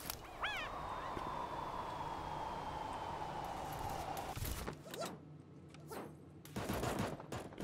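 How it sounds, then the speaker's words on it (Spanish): Bursts of rapid gunfire crackle through the online battle royale game Super Animal Royale, with rattling volleys and sharp shots following a rising electronic tone, moderately loud and without speech. "Ya se escuchan tiros por ahí."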